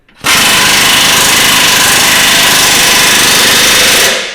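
An impact wrench drives a coupling nut onto a nutsert during a 6-inch BDS coilover install on a Toyota Tacoma, a loud continuous rattling hammer that starts abruptly and runs for about four seconds before cutting off.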